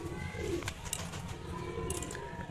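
Pigeons in a loft give low, soft cooing calls that repeat over a steady background murmur, with faint chirps near the end and no talking.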